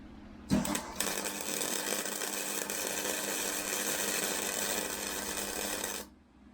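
Metal awning bracket pieces being cut to length with a power tool for an offroad trailer, a brief clunk at start-up followed by a steady, harsh grinding whir for about five seconds that then cuts off, faint and without speech.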